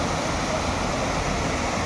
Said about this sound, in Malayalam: ചെറിയ വെള്ളച്ചാട്ടമുണ്ട്.